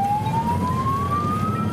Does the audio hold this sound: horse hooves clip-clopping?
no